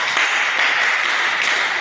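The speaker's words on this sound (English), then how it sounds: "Give yourself a round of applause." Dense, steady clapping from a group, loud and continuous for a couple of seconds with no talking.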